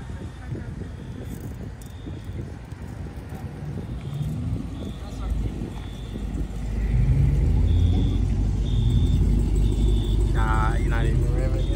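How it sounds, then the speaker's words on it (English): A modified Dodge Challenger Hellcat pulls away from a car meet, its deep engine rumble swelling louder over the last few seconds while people chatter nearby throughout. "Challenger runs out because it's an Hellcat."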